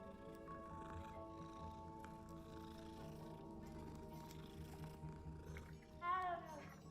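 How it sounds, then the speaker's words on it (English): Several cats meowing in the Hogwarts Legacy video game, a soft, steady murmur under a layer of game ambience and music, with one louder, wavering meow standing out near the end. "Why is it so many cats? Werewolves, where were you? Man, they loud."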